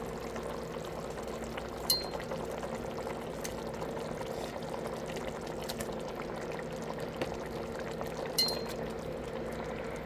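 Chicken goes into a pot of simmering apritada sauce, a steady low bubbling and sizzle with soft liquid movement and two brief clinks of utensil against the pot.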